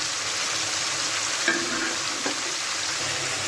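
Potatoes fry in a pan for a fish curry, a constant, fairly loud hissing sizzle with a couple of brief clinks partway through and no voices.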